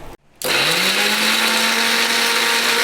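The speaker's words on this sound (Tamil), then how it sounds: "நல்லா அரைச்சாச்சு. இந்த லெவலுக்கு அரைச்சா போதும், ரொம்ப பேஸ்ட் மாதிரி தேவையில்லை." A mixer grinder blends onion, ginger, garlic, peppercorns and curry leaves for a fish curry, starting with a brief pause, then a loud, steady whirring drone that settles into a constant pitch.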